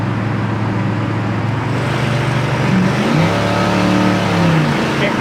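A 1979 Camaro Z28 with automatic transmission, heard from inside at highway speed, kicks down a gear and accelerates, its steady engine drone deepening and rising in pitch over the constant road roar.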